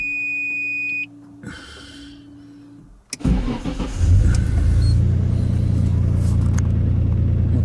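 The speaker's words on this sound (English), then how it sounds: "Let's go ahead and start up the car." A Nissan Silvia S15 starts up: chimes and a steady tone first, then a whirring starter crank and the engine catching into a loud, steady idle rumble close by.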